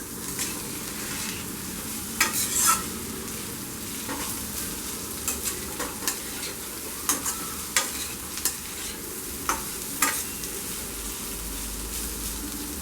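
Grated beetroot is stirred into lightly fried onions in a pan for beetroot rice pulao, a steady frying sizzle under repeated scraping stirs and light clinks of the spoon, close by with no voices.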